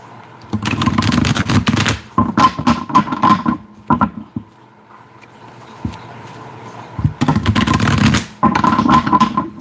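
Tarot cards being shuffled by hand, several loud close bursts of rapid riffling and flapping separated by short pauses, with no talking.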